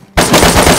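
Gunfire in the game DayZ, a loud, very short automatic burst that starts abruptly, close and alone.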